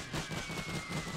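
Machine guns in a Total War WW1 mod battle at Verdun between Germany and France chatter in a steady rapid stream of moderately loud, slightly distant shots with no voices over them.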